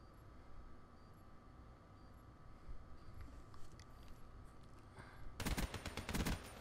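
Gunfire in the Call of Duty Black Ops 3 video game: a few faint distant shots in the middle, then a loud rapid burst of automatic fire near the end over a low background hiss.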